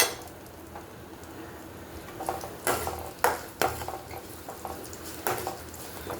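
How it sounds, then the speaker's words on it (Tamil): Garlic, onion, fenugreek seeds and curry leaves frying in oil in a home kitchen, with a low steady sizzle broken by several sharp clinks and scrapes of a utensil stirring the pan, close and fairly quiet, no talking. "இது கൊஞ்சம் நல்லா அப்படி வதங்கணுன்னா எண்ணெயில் பொரியணும்"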